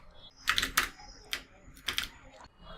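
Keys on a computer keyboard click in short bursts of several quick strokes each, separated by brief pauses. The clicks are close and crisp and play against a quiet room.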